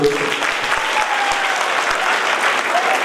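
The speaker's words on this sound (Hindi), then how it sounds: "मगर पहले थोड़ी सी तालियां उठा दो" Audience applause at a college event, a dense steady clapping crowd that stays loud for the whole stretch, with faint voices mixed in.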